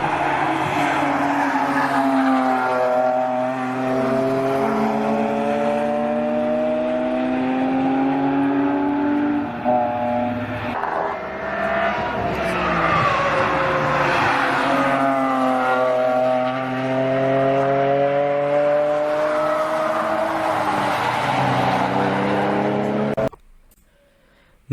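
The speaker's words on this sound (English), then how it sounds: "it is the last M3 with a naturally aspirated straight-six engine" BMW M3 with a naturally aspirated straight-six engine revving hard, rising and falling through several loud, sustained climbs with a smooth, layered howl, then cutting off abruptly at the end.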